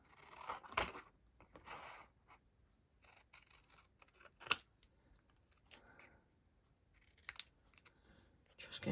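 Scissors cutting out paper during a craft session, quiet and close, with a few short snips and rustles separated by pauses and one sharper click partway through.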